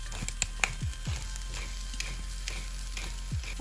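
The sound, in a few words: apricot and caraway mixture cooking in a pan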